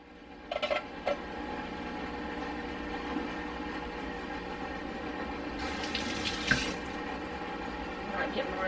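Kitchen tap running water into a container in a home kitchen, a steady close rush with brief clatter near the start and a louder spatter toward the end.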